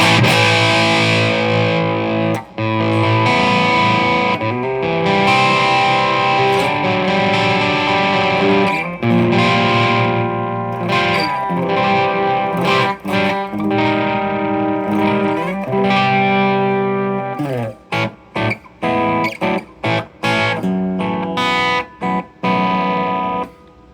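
Heavily distorted chords from an EVH Striped Series Frankenstein Strat through the high-gain channel of a Mesa Boogie TC100 tube head ring out loud and sustained, then turn into choppy, clipped strums toward the end.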